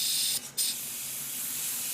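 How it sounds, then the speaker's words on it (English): A steady, fine hissing spray of paint from an airbrush at low pressure plays close by, interrupted once by a brief gap before resuming, airy and constant. "A little spray."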